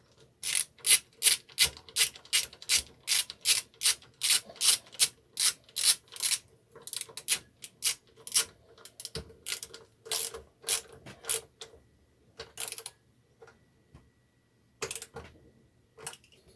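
Ratchet wrench tightening bolts on a Westwood mower fitted with a Quantum engine, with rapid loud clicking bursts in a steady back-and-forth rhythm, close up, then sparser strokes as the bolts snug down, with no talk.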